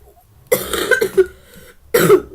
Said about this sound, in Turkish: Bakın öksürük tuttu.